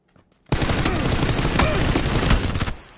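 SMG fire in PUBG on the Karakin map erupts after a brief quiet: a loud, close, continuous rapid-fire burst lasting about two seconds, then trailing off.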